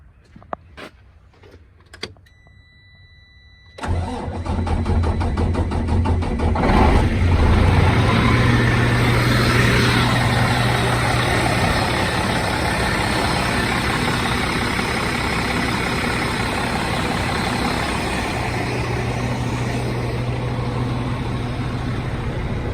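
A 2006 Freightliner Columbia truck's diesel engine cranks over after a few clicks, catches and roars into a loud, steady idle that drones on unbroken, with no talking.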